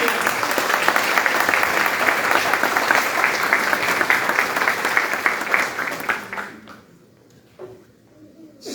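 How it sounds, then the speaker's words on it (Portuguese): A church congregation applauds in a dense, loud wave of clapping that holds steady for several seconds and then quickly fades to a few scattered claps. "Você pode aplaudir Jesus?"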